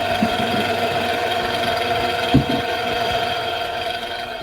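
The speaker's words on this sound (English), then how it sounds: "we're gonna want to put the mixer on low and let that go" An electric mixer on low speed churns a peanut butter fudge mixture, a steady close motor hum with a faint knock partway through.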